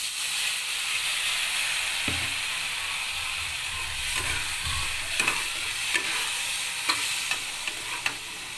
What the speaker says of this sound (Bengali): ভাজাটাতে কিছুটা জল দেব সামান্য